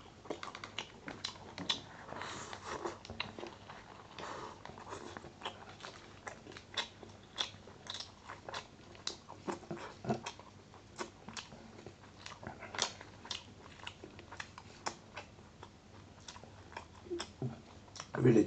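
Close, continuous chewing and crunching of Chinese fried rice in a mukbang eating session, with steady wet bites and mouth sounds throughout and no talking.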